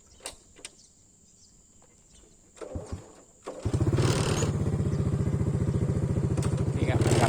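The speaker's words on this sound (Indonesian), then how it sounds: "saya hidupkan dulu motornya" A motorcycle engine starts up nearby after a few quiet thuds and clicks, catching abruptly and settling into a loud, steady idle that runs to the end, outdoors at a university campus.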